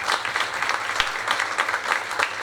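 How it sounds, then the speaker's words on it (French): Audience applauding at a school theatre performance, a steady, dense wash of clapping throughout with no voices, moderately close and even in level. "Et avec notre vidéaste Joachim Navarro, on peut applaudir aussi."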